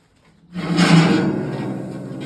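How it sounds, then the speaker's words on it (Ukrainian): The door of an automatic shot blasting cabinet swings open after a quiet moment, giving a loud scraping, sliding rumble that peaks quickly and then settles into a sustained lower hiss. "Далі відкриваємо двері."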